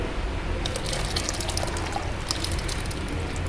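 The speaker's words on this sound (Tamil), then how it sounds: "இப்போ தண்ணி கொதிக்க ஆரம்பிச்சிருச்சு" Water bubbles and churns at a rolling boil in a pot, a steady close-up seething with no voices.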